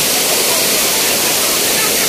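A waterfall at Daranak in Tanay, Rizal roars as a dense, steady rush of falling water, close and loud, with voices faintly under it.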